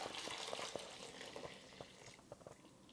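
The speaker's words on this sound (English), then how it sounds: "I'm going to pour the liquid over the cheesecloth." Pickling liquid for Indonesian pickled vegetables poured through cheesecloth, a steady close trickle and splash of liquid with small irregular drips and patters, heard alone without talk.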